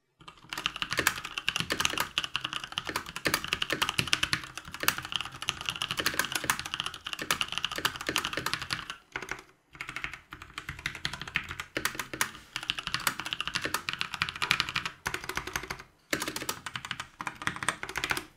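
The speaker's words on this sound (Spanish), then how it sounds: "ya escucharon cómo suena este teclado" Fast, steady typing on a mechanical keyboard, with dense clacking keystrokes up close and only brief pauses, no voices.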